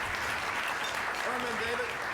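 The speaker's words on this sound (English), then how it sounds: "How about a big round of applause?" A crowd claps steadily in a dense, continuous wash of applause, with a few faint voices rising underneath.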